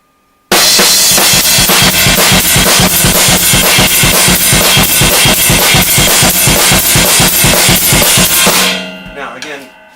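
Steady drum shuffle pattern on a floor tom or suspended tom with a ride cymbal playing a double-and-single figure, loud and driving for about eight seconds before stopping abruptly.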